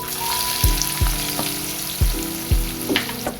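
Two lengthwise-sliced onions hit hot oil already holding dried red chillies and asafoetida on low gas for sambar, giving a loud, close sizzle with a handful of sharp utensil knocks spaced through it. No one speaks.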